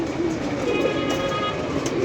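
Pigeons coo close by in a steady, overlapping murmur of soft throaty calls lasting the whole moment, with no clear speech over them.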